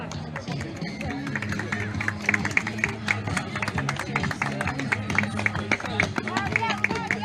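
Spectators applaud runners at a town sports event, a continuous patter of many hands clapping mixed with crowd chatter and a voice speaking over it throughout.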